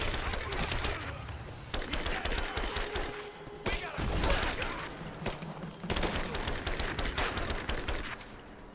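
Sustained video-game gunfire in a raid, dense bursts of rapid shots and volleys running almost without pause, loud and close, with brief dips between barrages.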